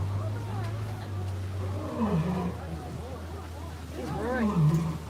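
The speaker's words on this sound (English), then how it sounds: "Oh, can you hear the lion like roaring?" At Animal Kingdom, a lion gives deep, rumbling roars in repeated bursts, heard at a distance under people talking and a low background drone.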